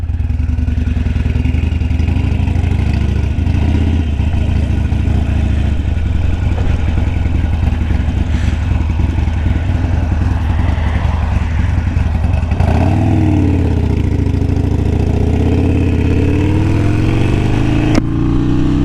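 Harley-Davidson Sportster 48 motorcycle riding toward the Holme Moss summit, a steady loud engine drone mixed with heavy wind rush throughout, with a shift in engine note partway through as the ride continues.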